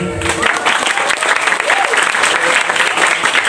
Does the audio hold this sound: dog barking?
no